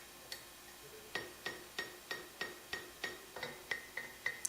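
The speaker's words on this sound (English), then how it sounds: "A little more hammering." An anvil being mounted on its base with cleats gets about a dozen sharp metallic hammer blows, struck close by at a steady, fairly quick pace and ringing briefly after each hit.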